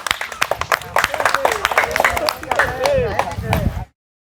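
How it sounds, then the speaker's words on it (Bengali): An audience claps for contestants at a weightlifting challenge game show, with quick scattered claps mixed under a loud voice talking. "একটু প্রতিযোগীদের জন্য জোরে করে করতালি।"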